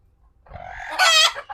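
A chicken, a native backyard hen held in hand for an eye-drop vaccination, gives a short, loud squawking cluck, rising sharply near the end, close by with only faint rustling before it.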